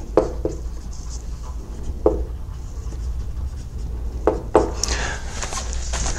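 A marker writing on a board during a neuroanatomy lecture, with a few short squeaky strokes and taps close by over a low steady room hum.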